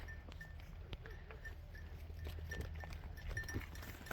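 Goats bleat faintly now and then amid quiet barnyard shuffling and scattered knocks, the calls soft and somewhat distant.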